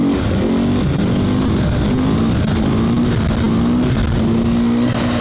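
A KTM supermoto motorcycle engine revving hard for a wheelie, producing a loud, continuous close-up roar with rising and falling pitch sweeps as the throttle is worked, with no voices.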